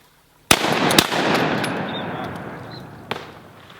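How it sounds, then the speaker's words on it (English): A shotgun blast while duck hunting, followed by a second sharp shot and a long rolling echo, then a third shot near the end; close and loud outdoors. "Let's shoot that one, boys."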